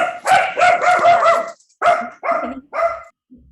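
A dog barks several times in quick succession, then gives a few separate barks after a short pause and ends on a faint yip. The barking is loud and close, with no talking over it.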